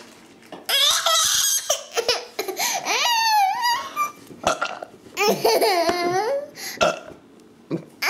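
Baby burping amid giggly laughter and squealing babble, several short close bursts spread across the stretch with brief pauses between.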